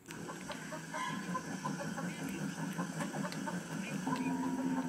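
A chicken in the LittleBigPlanet 3 video game, part of a horror level, clucks in a string of short, bright calls over a busy game soundscape, moderately loud, with a longer tone rising near the end.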